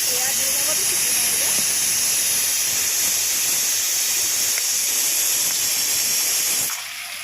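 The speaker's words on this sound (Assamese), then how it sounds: "এয়া মোৰ ভাত হৈ গ'ল। 2 নম্বৰটো চিটি মাৰিলে, চুইচটো অফ কৰি দিলোঁ।" A pressure cooker on the stove vents steam with a loud, steady hiss while cooking rice, holding throughout before cutting off near the end.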